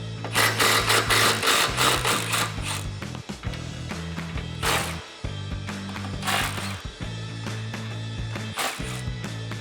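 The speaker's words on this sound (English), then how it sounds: "So we're just gonna loosen these guys up." A ratchet wrench with a 15mm deep socket loosens the exhaust band clamp nuts joining the factory resonator to the headers on a 2015-2023 Mustang GT 5.0L, giving loud, close, rapid clicking in repeated bursts with short pauses between strokes.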